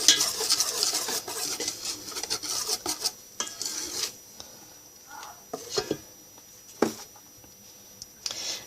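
Lemon cake batter being stirred in a bowl, a steady scraping, rasping rhythm with occasional sharper knocks of the utensil against the bowl, fairly close and moderately loud, with no talking.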